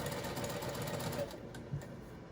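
A sewing machine stitches a cross body bag, its needle chattering in a rapid, steady run close by, fading slightly toward the end with no voices over it.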